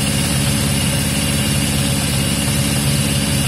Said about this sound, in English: so it is revving